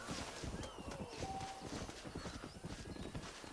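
A horse in Red Dead Redemption clip-clops at a quick pace and lets out a whinny partway through, amid busy game sounds and gunfire-like bursts, with no one speaking.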